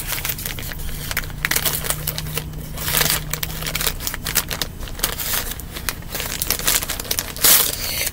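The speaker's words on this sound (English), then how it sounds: "So we're going to open it up together with my pink scissors." Pink scissors snip and tear open Temu plastic mail packaging, with steady close crinkling, rustling and crackling of the plastic and a louder crunch near the end; no talking.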